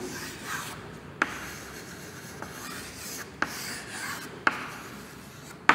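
Chalk or marker strokes on a classroom board rub and scratch in short bursts, with a few sharp taps where strokes begin, close and fairly quiet, and no one talking.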